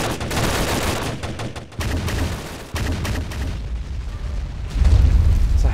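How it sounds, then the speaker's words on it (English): Heavy weapons fire and explosions in a war video game set during the Russian invasion of Ukraine, including grenade launcher fire, a loud dense continuous barrage of gunfire and booms with a sharp cut midway and a deeper rumble at the end. "they got a grenade launcher up there."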